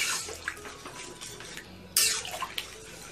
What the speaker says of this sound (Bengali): আবার দেখুন সামান্য একটু জল দিলাম